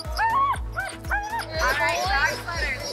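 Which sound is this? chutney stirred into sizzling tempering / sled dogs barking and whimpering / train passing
sled dogs barking and whimpering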